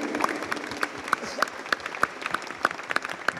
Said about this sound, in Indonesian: Tepuk tangan dong, kita live streaming nih.